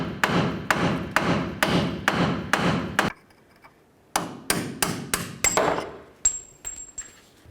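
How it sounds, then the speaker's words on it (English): Hammer blows on the steering knuckle of a 1998-2011 Ford Ranger to jar the lower ball joint loose: two rapid runs of sharp, ringing metallic strikes, close and loud, separated by a brief pause. "Use your hammer, give it a couple loving bonks just to break it free."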